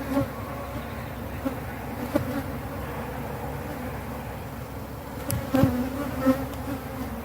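Honey bees buzz around an open hive, a steady close hum of many insects with a few louder passes and faint handling noises in the background.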